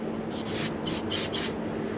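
Three short hissing bursts of fine spray mist from a nozzle during carburetor cleaning on a Troy-Bilt Squall 210 snow blower, close by over a steady background hum.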